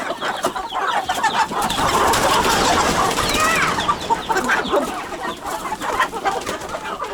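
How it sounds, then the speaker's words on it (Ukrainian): A free-ranging broody hen clucks repeatedly among her chicks, rapid close clucks with soft peeping chirps mixed in, busy and fairly loud throughout. "Ага, клукає, я бачу."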